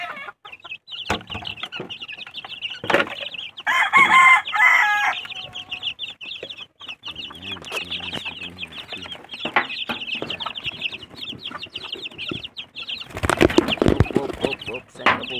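Twelve-day-old chicks peep in a constant high chatter, with a few louder clucks and brief bustling noises, while a person talks at intervals over them.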